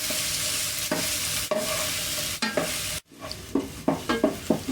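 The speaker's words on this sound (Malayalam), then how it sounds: "ഇത് നല്ലൊരു ബ്രൗൺ നിറമാവുന്ന വരെ നമുക്ക് വഴറ്റി കൊടുക്കാം" Chopped onions sizzle in a hot pan for a Gobi Manchurian, with repeated scraping stirs of a spatula cutting through the steady frying hiss, close and without talk.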